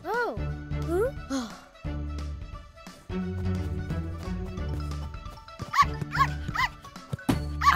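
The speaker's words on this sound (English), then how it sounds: "What a cheeky little puppy." A cartoon puppy yips and barks in short, bright bursts over a busy bed of cheerful background music, with the barks clustered near the start and again toward the end.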